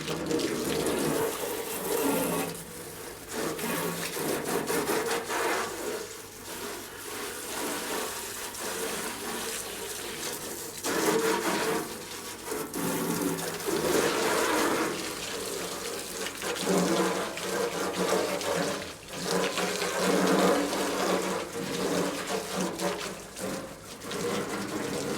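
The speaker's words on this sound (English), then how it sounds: "We'll give it a swirl around with a hose pipe anyway." Hose pipe water swirling and rinsing out the inside of a water tank that someone dumped rubbish in, a steady close rush of running, splashing water lasting throughout with no talking.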